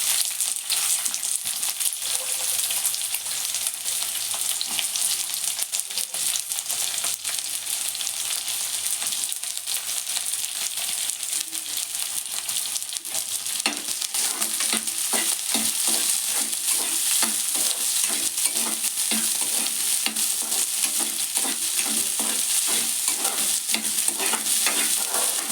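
Onions frying in oil in a pan for avarekalu upma, a steady close sizzle with stirring scrapes throughout and no talk.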